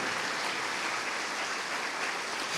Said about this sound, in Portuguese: Aplauda adorando.